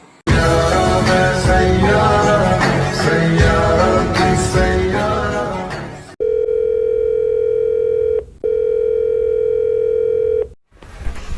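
Music plays loudly for about six seconds, then a steady telephone tone sounds twice, a sustained electronic beep cut by a brief gap, as an outgoing call connects.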